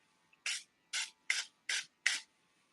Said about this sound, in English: I'm going to go ahead and back up when I spray it.